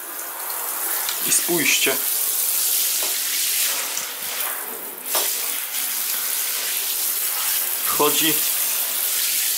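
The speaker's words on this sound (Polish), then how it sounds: "Zobaczcie, teraz myję wannę i specyfikum" Water runs steadily into a bathtub as it is washed with a cleaning product, a close, loud hiss that continues throughout while someone speaks briefly over it.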